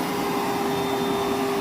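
A Milwaukee M12 1.6 gallon wet/dry vacuum (0960-20) runs steadily at close range, with its hose lying loose and no load on it. It gives a constant whining drone with a strong motor hum throughout.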